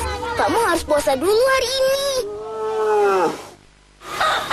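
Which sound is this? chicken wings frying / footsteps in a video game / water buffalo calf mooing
water buffalo calf mooing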